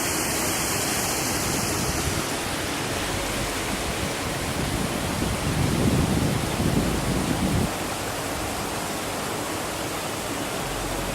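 Steady, loud roar of Stanley Gill Force waterfall in the Lake District, a continuous broadband rush that swells slightly midway, with no voices.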